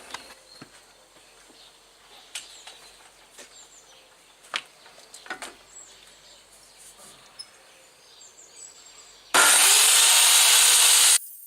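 A handsaw cuts wood for a shed window frame: faint scattered scrapes and taps at first, then a loud, steady burst of sawing lasting about two seconds near the end.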